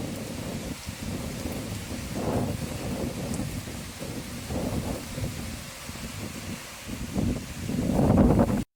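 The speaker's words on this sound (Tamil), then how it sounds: "அப்படியே மழை பெய்ய ஆரம்பிச்சிருச்சு." Heavy rain pours steadily while rolls of thunder rumble repeatedly, swelling louder toward the end amid gusty wind.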